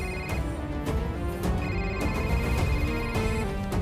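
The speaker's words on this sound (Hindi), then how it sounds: "उसी का फोन आ रहा है सर।" A phone ringtone plays a steady, repeating electronic melody, close and clear, with no one talking over it.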